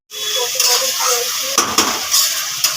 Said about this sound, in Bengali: পটল আলু ভাজা বসিয়েছি এখানে